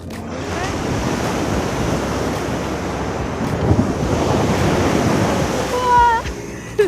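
Ocean surf rolls continuously onto Nipah beach in Lombok after rain, a steady loud wash of breaking waves with wind buffeting the microphone and a few faint tonal chirps near the end.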